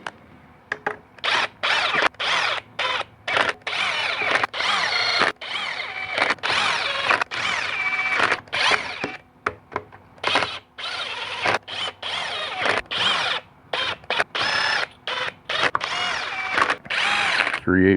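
A power drill runs down the bolts on a 4L60e automatic transmission during reassembly in repeated short whirring bursts, close and loud, separated by brief pauses.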